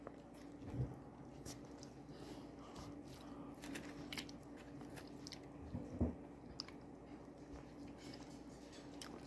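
Someone bites into and chews a pork pie with a crispy bottom crust, with soft, close, faint munching and a couple of sharper crunchy bites.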